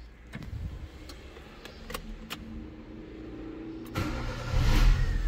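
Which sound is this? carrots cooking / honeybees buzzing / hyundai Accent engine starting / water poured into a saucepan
hyundai Accent engine starting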